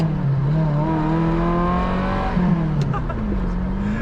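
A 1990 Ferrari 348 holds a steady, smooth engine note up close with a brief rise in revs midway, continuous and loud without pause.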